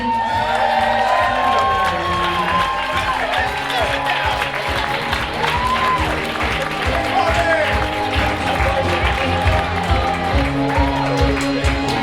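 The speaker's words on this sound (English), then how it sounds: "keep that applause going for the equally proud mother of our groom, Lisa, along with our stepbrother, Tony." Wedding guests applaud and cheer as the groom's mother is introduced, with loud crowd clapping, whoops and shouts under an announcer's voice over music, continuous and lively throughout.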